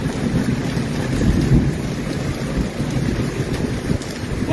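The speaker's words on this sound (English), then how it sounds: "That wind feels good though." Strong wind from a thunderstorm in Taft blows steadily, a loud, continuous roaring rush with no pauses and no talking.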